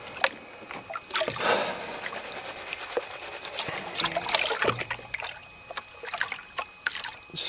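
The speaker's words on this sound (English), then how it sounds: "Just rinsing off that loose material off the top." Water sloshes and trickles in a gold pan as loose material is rinsed off the top while panning a desert wash, with splashes and dribbles close by in irregular bursts.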